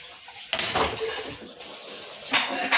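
A pot of bathua dal, lentils with water added, is set onto a gas stove in a home kitchen, giving a few sharp metal clanks and knocks with some sloshing between them.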